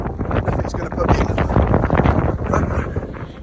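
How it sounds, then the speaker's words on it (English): Heavy wind buffeting the microphone during a run in the Derbyshire Dales between Dovedale and Biggin, a loud continuous low rumble with rain conditions and a voice talking over it. "It's raining and it's a bit windy."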